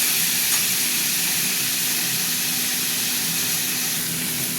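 Tomatoes sizzle in hot oil in a pan while being stirred, a steady close hiss of frying with no talk over it.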